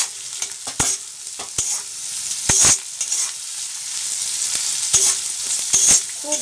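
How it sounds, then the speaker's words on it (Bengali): Chopped carrot, cabbage, capsicum and cauliflower stir-fried in a pan for thukpa noodles, with a steady close hiss and a few sharp spatula scrapes and knocks spaced through the stirring. "গাজর কুচি, বাঁধাকপি কুচি, একটুখানি ক্যাপসিকাম আর একটুখানি ফুলকপি। তা দিয়ে আমি এক থেকে দু মিনিট নেড়ে নেব।"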